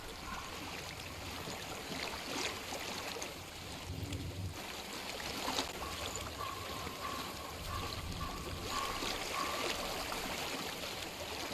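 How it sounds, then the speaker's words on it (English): Steady stream water flows and trickles through the game world of Hellblade: Senua's Sacrifice, a continuous rushing wash that stays even for the whole stretch, with no talking. "I hear water."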